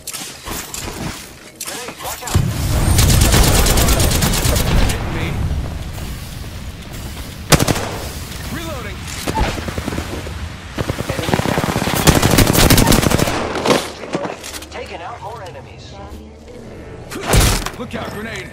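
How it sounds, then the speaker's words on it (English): Apex Legends gunfire plays in loud, sustained automatic bursts with sharp single shots and impacts between them, while a voice talks over the fighting. "The enemies are shooting at me."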